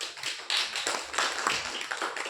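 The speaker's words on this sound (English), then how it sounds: "Give her a good round of applause." An audience applauds a woman named Siddhika in a steady, dense patter of many hands clapping at once, a continuous round that holds at an even level from start to finish.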